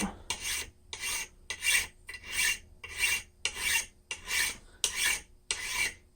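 A blacksmith draws a hand file across metal in ten even, rhythmic strokes, each a loud close rasp separated by brief pauses, with no talking.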